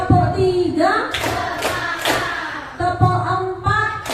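A class chants a counted clapping routine in Indonesian, with children's voices singing the count and a few sharp rhythmic hand claps coming through between the chanted words.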